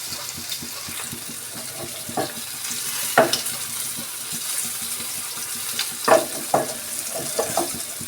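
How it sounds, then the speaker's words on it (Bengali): Hilsa fish fry in hot oil in a pan, a steady close sizzle throughout with occasional clinks and scrapes of stirring, and no voices. "এই তো মাছগুলোকে আমি ভেজে নিচ্ছি"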